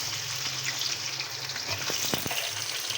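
Chicken pieces hitting onions already frying to light pink in a pan, giving a steady, close sizzle with a few sharp pops and crackles and no talking.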